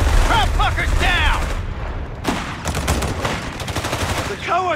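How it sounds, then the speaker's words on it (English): Dense battlefield gunfire in Company of Heroes 3 on the Italian campaign, loud continuous rattling bursts with booms, while soldiers shout over the fighting. "Cowards are shooting at us!"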